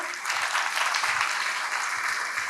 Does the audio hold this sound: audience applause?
yes